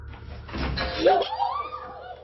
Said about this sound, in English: the door handle moves as if held from the other end